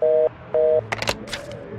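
Two long steady electronic ringback tones from a phone call in the video game Do Not Feed the Monkeys, each about a quarter second, followed by brief clicks and chirpy interface blips.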